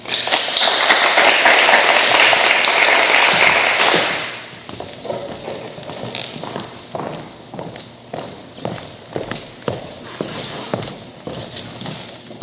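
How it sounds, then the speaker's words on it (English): Applause from an audience at a school band and choir awards day, honoring student award recipients; dense, loud clapping for about four seconds, then dying away into sparse scattered claps and taps. "Let's give them a round of applause"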